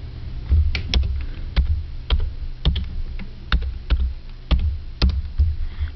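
Keys clatter on a computer keyboard as a command is typed into the Windows XP Run box, a close, crisp series of individual keystrokes at an uneven pace with short pauses between them.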